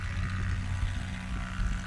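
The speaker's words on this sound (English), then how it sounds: "Listening to the whistle of that empty propeller." A steady low propeller drone from a STOL aircraft hums continuously with a faint airy whistle above it, moderately loud and unbroken.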